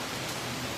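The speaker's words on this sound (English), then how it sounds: "You see that rain out there, okay?" Steady rain falling outdoors near Dollywood in Tennessee, a dense, even hiss with no distinct drops, fairly loud and continuous with no voices.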